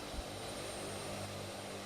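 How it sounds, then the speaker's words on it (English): Hercules transport plane in a flight simulator game, throttle pulled back into reverse thrust, giving a steady, loud, broadband engine roar with low rumble that holds unchanged throughout, with no talk. "it's going to go into reverse thrust, but I'm not going to have any throttle."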